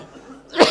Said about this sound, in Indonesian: Udah ada yang ini sampai batuk tuh.